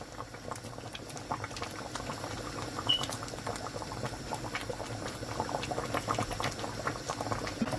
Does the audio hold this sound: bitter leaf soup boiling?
yes